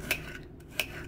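Knife cutting peeled food for a peanut salad snack on a board, two quick, crisp metallic taps a little over half a second apart, close and soft in a quiet room.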